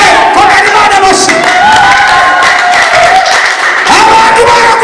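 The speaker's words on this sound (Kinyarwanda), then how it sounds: "Kora Imana amashyi." A church congregation at a deliverance service claps and cheers loudly and continuously, with raised voices of a crowd blending into the applause throughout.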